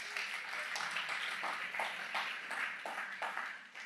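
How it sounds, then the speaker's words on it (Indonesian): A church congregation applauds, with a diffuse wash of many hands clapping in a large room at moderate, steady volume, with no voice over it. "Berikan tepuk tangan untuk Tuhan lah."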